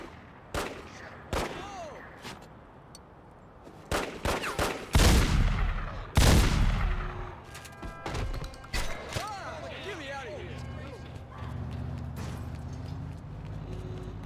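Gunfire in a Mafia video game crackles in sharp, loud bursts, scattered single shots early, then heavy rapid volleys in the middle, with crashes and a voice speaking between the shots.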